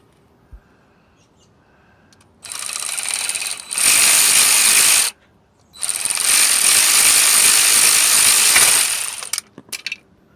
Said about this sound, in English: I'm going to break the oil sending unit loose from the block with the 26 millimeter wrench